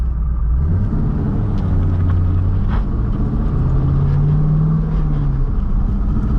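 A Corvette C5 Z06 with a rebuilt engine rumbles deeply while driving, loud and close, its pitch climbing under acceleration, easing off, then rising again.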